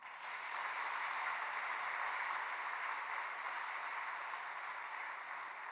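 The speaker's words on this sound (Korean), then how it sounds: "우리 두 분을 위해 다시 한번 격려의 박수 드리겠습니다" A church congregation at a Wednesday prayer meeting gives steady, sustained applause for two missionaries serving among Muslims in Indonesia, an even wash of clapping throughout with no speech over it.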